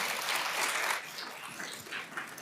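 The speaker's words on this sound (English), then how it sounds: "let's just get one more big round of applause for all of them." A large audience at an academic exposition closing celebration and awards ceremony claps in a steady, dense round of applause, loudest at first and then easing slightly while continuing.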